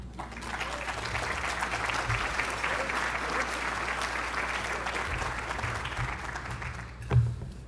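An audience at a lunch event applauds to welcome a speaker onto the stage, a steady even clapping that carries on for several seconds with a soft thump near the end.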